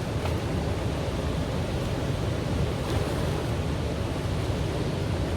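Water washes in like surf on a beach, a broad continuous rushing wash with a touch of wind, steady throughout and close, with no voices over it.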